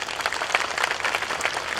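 Applause from a political rally audience in Nakhon Phanom for the Bhumjaithai party, a steady, dense patter of many hands clapping at moderate loudness with no speech over it.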